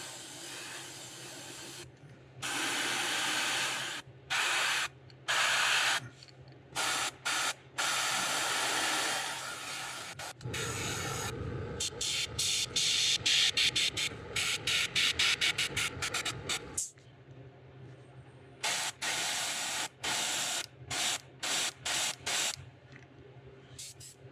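Airbrush spraying orange paint onto a custom craw fishing lure, a close, hissing spray in repeated short bursts of varying length separated by brief silences.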